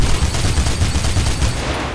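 A dense, continuous spray of gunfire in Mirror's Edge, loud and close, with rapid shots blurring into one rattling volley.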